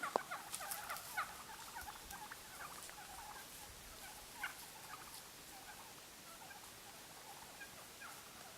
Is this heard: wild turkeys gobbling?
yes